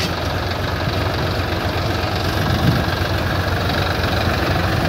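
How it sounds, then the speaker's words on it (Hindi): Two tractors, a Sonalika 35 RX and a Swaraj 735 FE, strain against each other in a tug-of-war, their engines churning in a steady, heavy, close drone with no break. "कोई ट्रैक्टर नहीं खींच पा रहे।"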